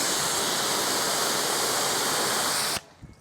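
A pressure washer delivering about ten liters a minute sprays a car in a steady, loud, hissing rush of water that cuts off abruptly near the end, leaving a few faint knocks.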